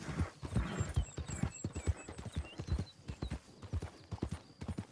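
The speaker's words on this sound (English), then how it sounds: "let's get on my horse" Horse hooves clip-clop at an even, brisk walking rhythm in the video game Red Dead Redemption 2. The footfalls are close and distinct, with faint high tonal sounds of birdsong or tack drifting in the background.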